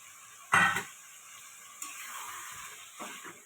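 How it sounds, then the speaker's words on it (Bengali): Pieces of lote fish, marinated in salt and turmeric, drop into a pan of hot spice mix for a curry, giving a sudden close sizzle burst that fades into a softer, steady frying hiss. "মাছগুলো লবণ হলুদ সব মাখিয়ে রেখেছিলাম এবার দিয়ে দিলাম"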